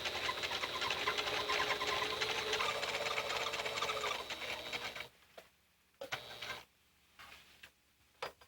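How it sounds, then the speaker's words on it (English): A 1984-era home sewing machine stitches a blind hem with a zigzag stitch, humming steadily for several seconds, then running in short stop-start bursts with quiet gaps between. "Now begin stitching, making sure that you catch just a yarn or two of the garment fabric in the zigzag stitch of the blind stitch"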